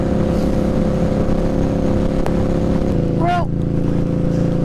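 An Indian Scout Bobber motorcycle engine runs loud and close with a steady throaty drone and a brief rising rev near the end, as someone speaks a word over it.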